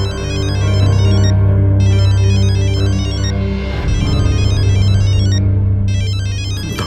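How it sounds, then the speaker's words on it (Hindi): A loud electronic ringtone plays continuously, a repeating melodic chime with layered tones that fills the whole stretch without any voices. "फोन।"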